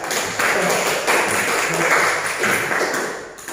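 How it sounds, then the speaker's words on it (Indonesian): A class claps together in a classroom during a lesson on inheritance law, giving a short burst of moderately loud, uneven clapping in several pulses that fades out near the end. "Begitu hasilnya kita beri tepuk tangan dulu"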